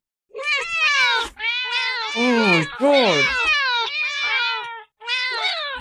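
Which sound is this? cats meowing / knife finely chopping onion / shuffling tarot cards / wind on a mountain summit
cats meowing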